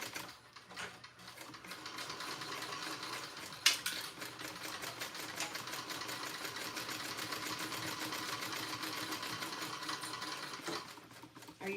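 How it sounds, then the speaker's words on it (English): A sewing machine basts two pieces of fabric together, running continuously with a fast, steady mechanical chatter at close range for nearly the whole stretch, with one brief louder knock partway through. "basting these two pieces together real quick."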